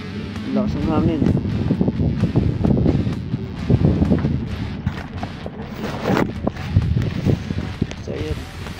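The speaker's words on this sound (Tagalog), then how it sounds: "Lakas ng hangin." Strong wind buffets the microphone in a steady roar, with loud rumbling gusts throughout and a voice speaking briefly over it.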